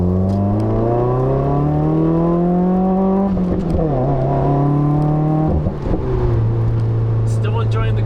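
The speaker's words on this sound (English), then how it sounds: "Why don't we start off with a second gear pull?" A 2015 Subaru WRX pulls hard in second gear. The engine note climbs steadily and loudly, drops at a shift, then climbs again. Throughout, the engine is close and dominant, with no talk over it.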